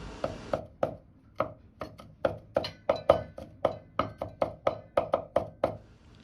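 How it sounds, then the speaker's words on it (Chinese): A knife chops smashed garlic and ginger on a board, about twenty crisp, sharp strikes in a quick, slightly uneven rhythm, close and clear with no talking. "大蒜和生薑適量，拍破剁碎就可以"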